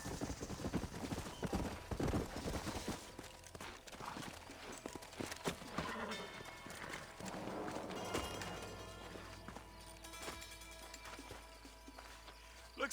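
Horses clip-clop in Red Dead Redemption, with hoofbeats shifting from quick irregular strikes to a slower walk under a steady ambient bed and occasional voices.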